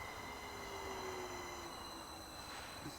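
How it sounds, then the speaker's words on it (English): Train arriving at a railway station on a route toward Manchester, with a faint steady rumble, high wheel squeal and metallic ringing tones, heard from a distance. "We've got one of the choo-choos coming now."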